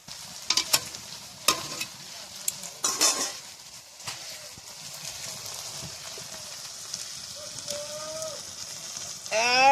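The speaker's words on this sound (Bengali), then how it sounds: "শুধুমাত্র নুন, লঙ্কা, হলুদ দিয়ে সঙ্গে ধনেপাতা দিয়ে সিম ভাজা করেছি" Home-grown broad beans fry in a pan with salt, chili, turmeric and coriander leaves, a steady close sizzle broken by scraping and clattering stirs.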